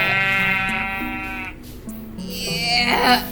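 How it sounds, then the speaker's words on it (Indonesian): A goat in the video game Minecraft bleats in a few wavering, nasal cries that carry over quiet game background, loud and close, with no talking during the calls. "Wah, ada kambing kocak."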